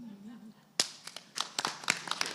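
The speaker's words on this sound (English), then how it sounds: "Y'all keep clapping for TC." Scattered clapping from an audience at a civic engagement summit panel starts after a brief hum and builds into sharp, uneven claps from several people.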